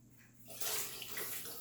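Filtered water poured into kombucha jars to top them off, a close, steady splashing pour that starts partway through and keeps running to the end, with no talk.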